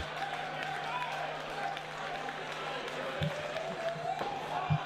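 Wrestling arena crowd at an SICW All-Star Wrestling show, a steady broad roar of cheering held at an even level with a few thumps, a commentator talking over it.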